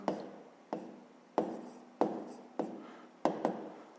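A pen writes a simple equation for a fifth-grade maths exercise, giving a series of about seven short scratchy strokes at a steady pace, close and fairly clear with no voice over them.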